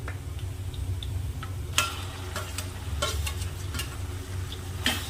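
Browned onion and ground masala sauté in a pan over medium gas for a village-style chicken curry. Frying crackles steadily underneath, and close spatula scrapes and clicks land at irregular intervals.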